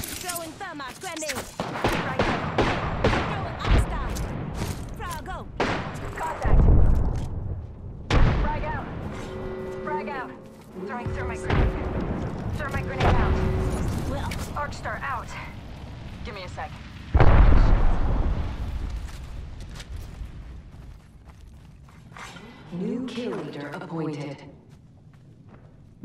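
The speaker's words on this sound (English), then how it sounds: "Throwing thermite grenade." Gunfire and explosive blasts in the battle royale video game Apex Legends as a thermite grenade is thrown, with repeated loud bursts and booms through the clip and game voice lines spoken over the action.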